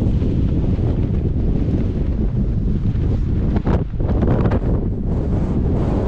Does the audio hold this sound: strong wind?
yes